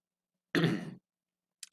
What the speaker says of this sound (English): I apologize for coughing into the microphone, everybody.